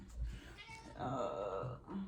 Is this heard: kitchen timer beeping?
no